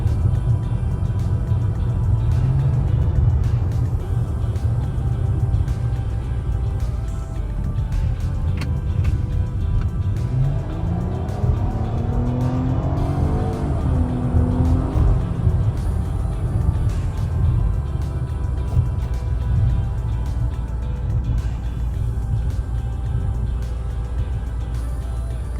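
A Nissan Maxima rental car in the premium class drives steadily, a continuous low engine and road rumble from inside the cabin with a rising rev in the middle, no one talking.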